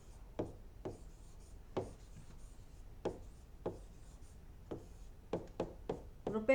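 A pen writes out a math solution on paper: a series of short, distinct scratchy strokes at irregular intervals, close and fairly quiet, with no other sound between them.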